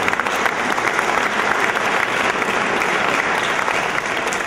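Sustained audience applause at an Italian award ceremony, the Premio Borsellino, a steady dense clapping that fills the whole stretch without pause.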